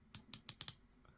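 A unidirectional 120-click ceramic-insert dive watch bezel ratchets through five crisp, close clicks in quick succession, then goes quiet apart from one faint tick.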